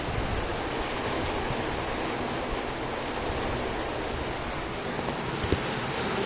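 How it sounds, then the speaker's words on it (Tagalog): Typhoon Pepito's strong wind roars continuously, a thick unbroken rush of noise with occasional gusts, loud and close. "Lakas ang hangin eh."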